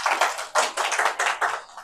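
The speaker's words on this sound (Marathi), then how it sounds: "सगळ्यांसाठी टाळ्या वाजव" A small crowd claps in quick, uneven bursts at a party-joining gathering in Akole, the hand claps close and lively with no talking over them.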